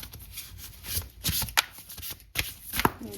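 Tarot cards shuffled and pulled from a deck: close, soft papery riffles and flicks in quick irregular bursts, with no talking.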